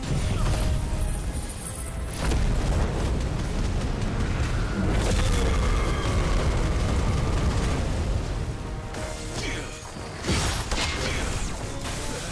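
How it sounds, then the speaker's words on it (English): In Final Fantasy 16, Titan blocks an explosion: a dense, loud, sustained roar of crashing, rumbling and grinding game effects that dips briefly before surging again. "Did I just block an explosion with Titan?"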